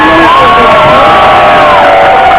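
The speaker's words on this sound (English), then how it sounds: "let's have a round of applause for Victoria McKernan" A large crowd at a mask burning event cheers and whoops loudly, sustained shouting voices layered into a dense roar, with applause mixed in.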